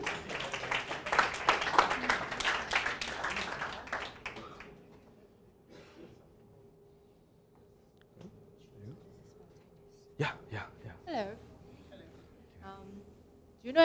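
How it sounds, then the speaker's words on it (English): Clapping and applause from a presentation-workshop audience, a dense burst of overlapping claps for about four seconds that then stops, followed by quieter room sounds and brief voices. "All right, give a big round of applause."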